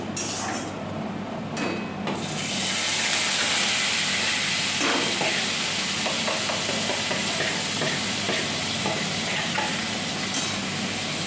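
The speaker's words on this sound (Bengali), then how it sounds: "সকাল সকাল রান্না করে নিলাম।" Vegetables frying in a pan during morning home cooking, a steady close sizzle and hiss running throughout with occasional stirring scrapes, no voices.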